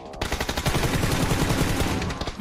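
Rapid automatic gunfire in a first-person shooter video game, a dense burst of shots fired close and loud for a couple of seconds.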